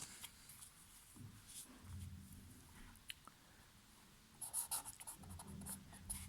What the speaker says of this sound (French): je vais écrire f de x